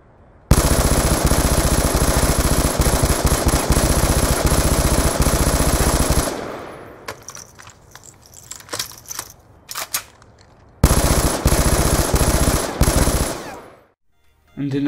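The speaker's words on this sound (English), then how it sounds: "in at number one is the QBB, you know, the light machine gun" Sustained full-auto bursts from the QBB light machine gun in Call of Duty Black Ops 2 come through loud and close. A long rattling volley gives way to scattered clicks and clatter, then a second heavy burst follows.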